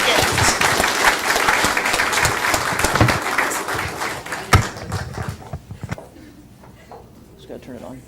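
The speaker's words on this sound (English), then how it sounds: "Let's give them a round of applause." A room full of people applauding at a city council meeting, a loud, dense burst of clapping that holds for several seconds and then thins out into scattered claps and quieter room noise.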